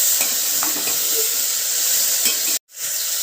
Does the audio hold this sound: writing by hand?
no